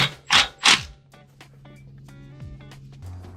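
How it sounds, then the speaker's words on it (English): A wrench works a nut onto a bolt from the back of a Toyota Tacoma lower control arm: two quick ratcheting clicks up close, followed by quieter creaks and faint metallic ticking. "I'm just gonna drive in the nut from the back"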